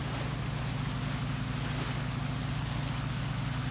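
A boat engine runs on the calm waters of Dusky Sound in Fiordland, New Zealand, a steady low droning hum with no pauses, close and continuous with wind and water noise.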